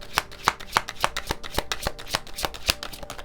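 Tarot cards shuffled by hand in a steady series of crisp riffling snaps, close and fairly loud, with no talking.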